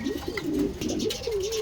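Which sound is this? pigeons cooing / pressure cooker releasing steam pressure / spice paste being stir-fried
pigeons cooing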